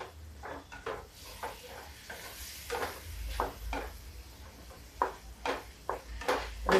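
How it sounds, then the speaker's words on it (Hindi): Spices frying in a pan with green chili, soft sizzling and hiss broken by scattered stirring scrapes and clinks of the utensil, close by, with no talking. "इस मसाले को हम भूनेंगे।"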